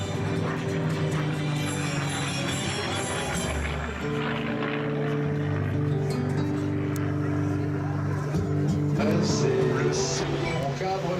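Vintage research aircraft with a warbird engine droning steadily in flight at an air show, a loud continuous engine roar with shifting tonal harmonics throughout.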